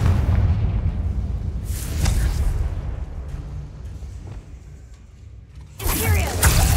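Confringo blasting spells in Hogwarts Legacy, two loud explosive bursts with whooshing debris, one near the start and another at the end, separated by a quieter rumbling lull.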